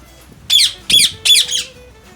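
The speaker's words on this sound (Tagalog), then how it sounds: "This species is one of the few parrots that have survived living in the areas disturbed by humans." A parrot lets out four harsh, shrill squawks in quick succession, loud and close, with a brief faint whistle between calls.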